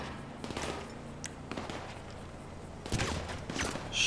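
AR-15 rifle gunfire in the video game GTA Online: scattered sharp shots, then a denser burst of fire near the end, close and fairly loud over steady game background noise.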